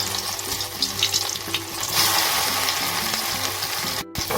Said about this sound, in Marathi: आता हे आपण तळून घेऊया